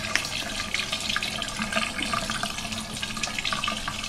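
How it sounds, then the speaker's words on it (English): Tap water runs steadily into a sink while a makeup brush is rinsed, a continuous close splashing stream with small bubbly irregularities and no pauses. "Until the water runs clear."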